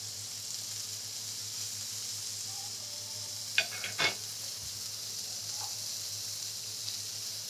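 Food for a fiery curry sizzles steadily in a pan under a constant high hiss, with a few sharp scrapes of stirring near the middle.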